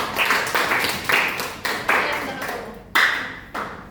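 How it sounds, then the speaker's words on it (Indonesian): A small group of students claps in short, separate bursts during a classroom guidance session, each burst starting sharply and decaying within half a second, with a few distinct smacks and some murmured voices between them. "Beri tepuk tangan."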